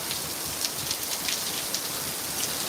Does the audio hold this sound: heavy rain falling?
yes